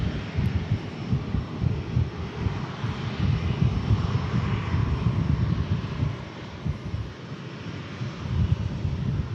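A jet aircraft engine roars steadily at Manchester Airport, a broad, rumbling drone heard from a distance with some wind buffeting, no voices over it.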